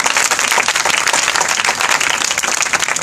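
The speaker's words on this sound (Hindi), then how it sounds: "इन बच्चों के लिए ज़ोरदार तालियां बजाएं, और उनके मुअल्लिम के लिए, इनके उस्ताद के लिए भी ज़ोरदार तालियां बजाएं।" Loud, steady applause from a congregation for children who recited verses and for their teacher, dense clapping filling the whole stretch without a break.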